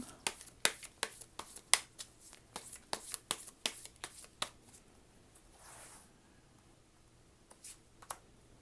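Tarot cards are shuffled and drawn by hand, a quick run of crisp flicks and snaps up close, then a soft sliding rustle and a couple of final slaps as cards land. There is no talking.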